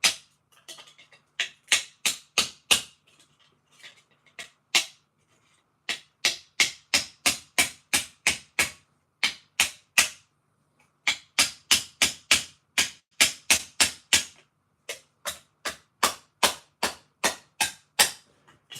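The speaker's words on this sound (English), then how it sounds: "So we're gonna have to hammer that down a little bit." A hammer strikes loose metal slack on an inexpensive Nintendo console, dozens of sharp, evenly spaced metallic taps in quick bursts with short pauses between them, close and loud, with no talking.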